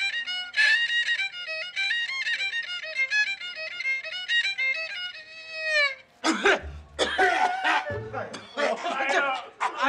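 A man coughs in several harsh, close bursts after a long melodic vocal phrase, in a setting where he is about to sing opera after drinking too much sorghum liquor the night before.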